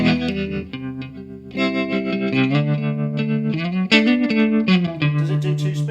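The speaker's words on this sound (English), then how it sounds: "I really like the rotary sound." Electric guitar through the rotary speaker effect of a Blackstar HT-Effects pedal with slight drive, sounding as loud chords and melodic lines with a swirling, warbling tone and no talk.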